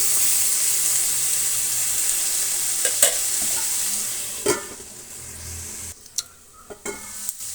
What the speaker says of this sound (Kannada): ಒಂದು 5 ನಿಮಿಷಗಳ ಕಾಲ ಈ ರೀತಿ ನಾವು ಬೆರೆಸ್ತಾ ಇದ್ದರೆ ತರಕಾರಿ ಚೆನ್ನಾಗಿ ಬೆಂದೋಗುತ್ತೆ